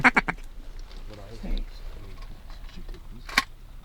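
Ducks quack during a hunt over shallow sheet water as birds fly in, with sharp bursts at the start and end, and low voices murmuring between calls.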